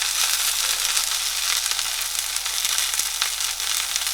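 A giant sunflower head fries in a pan, pressed down so it cooks on all sides, giving a loud, close, continuous bright sizzle with occasional sharp pops.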